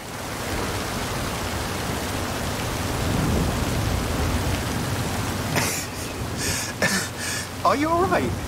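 A thunderstorm with heavy rain in the racing game Forza 5 makes a constant hiss with a low rumble of thunder, and a person talks near the end.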